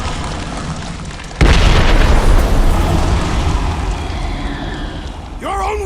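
A heavy boom bursts out suddenly in the Marvel's Guardians of the Galaxy video game, followed by a long roaring, crackling rumble, with a voice briefly heard near the end.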